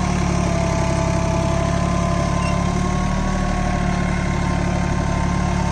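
Steady, loud engine drone from a Swaraj Target 630 4WD mini tractor running with a cultivator in the field, constant low-pitched throb holding level for the whole stretch with no talk.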